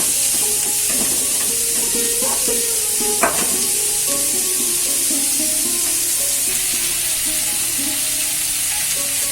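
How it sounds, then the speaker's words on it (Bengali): Whole cumin seeds, green chilli and onion fry in hot oil in a pan, giving a loud, continuous sizzle with a few clinks and scrapes from stirring. "গোটা জিরে আর কাঁচা লঙ্কা ফোড়ন দিলাম ওটা দিয়ে দিলাম পেঁয়াজটা"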